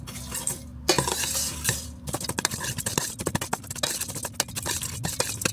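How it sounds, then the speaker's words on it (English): A no-bake Estonian mosaic cake mixture is stirred in a bowl, giving close, rapid scraping and clinking of a utensil against the dish, brief pauses, then continuous busy mixing with no talk. "then you just mix this"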